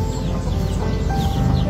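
Chickens clucking continuously at close range on a farm where a four-legged chicken is among them, with layered fowl calls and short chirps over steady background noise.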